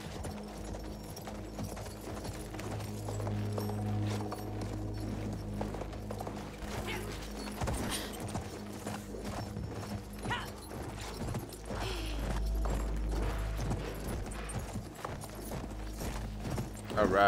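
Horse hooves galloping in the video game Battlefield 1, set among Bedouin riders, a steady rolling clip-clop drumming alongside creaking and mechanical rattles over a dense, continuous game soundscape.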